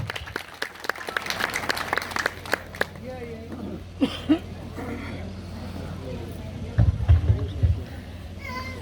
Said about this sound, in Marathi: जोरदार टाळ्या व्हायला हवं